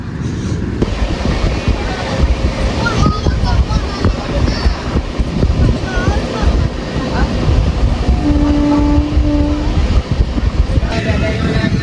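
Inside a sleeper-class coach of the Mangala Lakshadweep Express on the Konkan Railway, a loud steady rumble of the running train fills the whole stretch, with wind buffeting, rattles and a brief high tone near the end.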